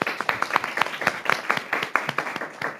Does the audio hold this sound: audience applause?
yes